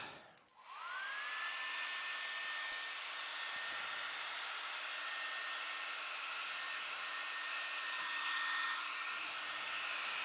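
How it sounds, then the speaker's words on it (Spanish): A hair dryer blows steadily on a screen-printing screen, whirring up to speed at the start, then holding a loud, constant rushing hum for about ten seconds with no voices. "vamos a secar esto con el secador"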